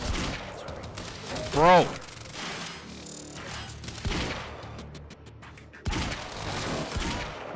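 Bursts of gunfire in the video game Quantum Break, with a sharp volley early on and further shots scattered through. A man exclaims briefly over the shooting.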